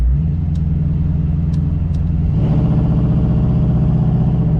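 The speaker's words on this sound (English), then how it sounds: "Very crisp throttle response in this car." A 1968 Ford Mustang convertible's engine hums steadily, then revs up and accelerates with a deepening rumble, loud and close, with no talking.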